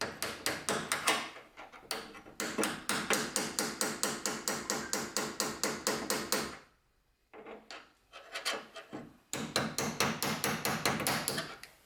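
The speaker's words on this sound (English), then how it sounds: "Now I'm just gonna give these a little tap, make sure they're seated." Rapid hammer taps seating hinge parts on a sagging door of a third-generation Camaro, a long steady run of sharp close strikes, a brief pause, then more irregular knocks and another quick burst of tapping.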